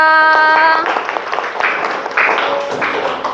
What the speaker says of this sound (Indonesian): Beri tepuk tangan untuk Rafa